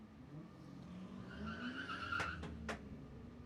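A 2007 Corvette Z06 at a drag strip at night, heard as a steady engine roar with rising whine and sharp bursts of tire squeal, fairly close and continuous.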